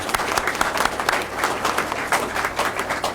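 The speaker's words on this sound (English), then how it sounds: "I just want to give a round of applause for Tina real quick" A crowd at a state workforce training funding announcement claps for a staff member, a lively burst of many hands with individual claps standing out, steady throughout.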